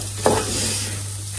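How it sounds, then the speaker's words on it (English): Lentils sizzle steadily in a pan after a brief clatter of stirring, close up and moderately loud. "I'm going to add my lentils because they've been sautéing for long enough"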